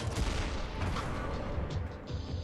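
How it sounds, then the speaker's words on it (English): In the Blade and Sorcery video game, a modded cannon fires loudly in a heavy, booming burst with a rumbling low-end roar that sustains across the moment. "We also have the fucking cannon,"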